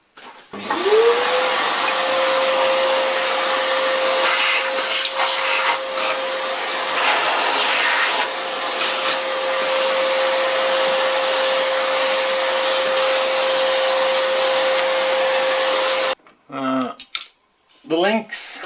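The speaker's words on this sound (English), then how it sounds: "A vacuum cleaner is good." A vacuum cleaner whines loudly and steadily for most of the stretch, then cuts off, followed by brief clattering handling noises.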